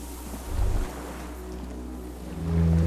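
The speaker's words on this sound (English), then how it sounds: "The distant sound of cargo ships." Distant cargo ships on open water in the game Disco Elysium: a low rumbling drone under a steady wash of sea noise, with two deep swells, one brief near the start and a longer one at the end.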